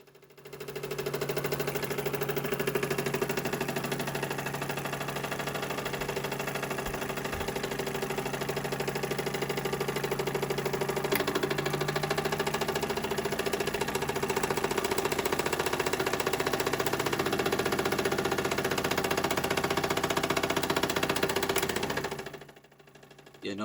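A small working model steam engine by A. Müller runs with its flywheel turning, giving a soft, steady mechanical hum and chatter that holds even for about twenty seconds before stopping abruptly.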